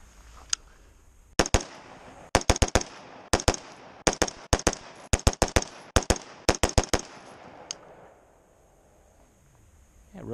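Rapid rifle fire through a Geissele Super Dynamic 3 Gun trigger: several quick bursts of sharp, loud, close shots in fast strings with short pauses between, then quiet.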